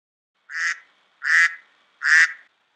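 A duck quacks three times in evenly spaced, nasal, close calls against silence, as a sound effect in a read-aloud story about ducks.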